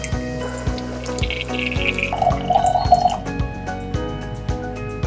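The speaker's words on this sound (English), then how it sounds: "To dispense normal, milk or cold water, press the normal, milk or cold button. Water will be dispensed immediately." An RO water purification system dispensing water, a stream running and trickling into a container alongside sharp clicks and drips, with a brief higher tone partway through and no speech.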